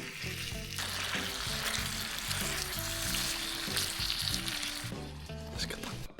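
Onions sizzle in a pan at a forest campsite, a dense, continuous frying hiss with scattered pops and light clinks of stirring, close by and fairly quiet, with no talking.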